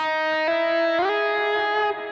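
Electric guitar note struck with a pick and a sharp, audible attack, no volume swell, then slid upward and left ringing; a few plucked notes sustain with effects-laden tone, heard alone without talk.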